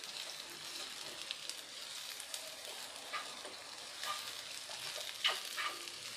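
Food is stirred and fried in a pan for a home-style egg and rice dish, a soft steady sizzle with occasional faint scraping and clinking of the utensil, quiet and close.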